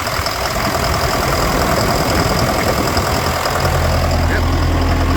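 A John Deere 6005R tractor engine runs loud and close after starting, with a steady diesel rumble and a deep idle that settles lower near the end.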